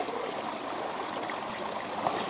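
Creek water pours steadily into a gallon pot during a small-stream flow measurement, a continuous close splashing trickle with no pauses and no voices.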